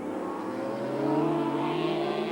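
Racing motorcycles from Suzuki, Honda and Yamaha accelerating hard at the 1986 Transatlantic Challenge, a steady high engine whine climbing in pitch and growing slightly louder, with no talk.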